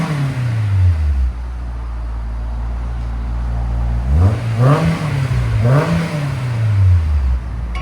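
A 2000 Honda S2000 with a 2.0L engine and an exhaust fitted with Vibrant resonators revs loud and close, its pitch climbing and falling twice, then settling back to a steady idle with no talking.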